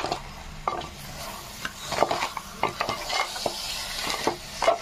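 Crab masala curry being stirred in a pan, spicy coastal style: a spoon scrapes and knocks against the pan in irregular strokes over a soft sizzle, close and fairly quiet.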